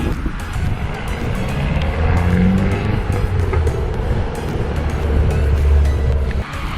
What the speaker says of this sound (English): Loud Mitsubishi.